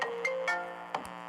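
A phone ringtone plays, a short bright melodic pattern of rapid repeating tones, close and clear with no talking.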